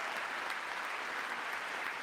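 Applause in Congress during a Trump address: dense, sustained clapping from a large crowd fills the hall evenly, continuous and moderately loud with no voices rising above it.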